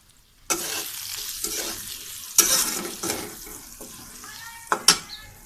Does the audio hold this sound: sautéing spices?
yes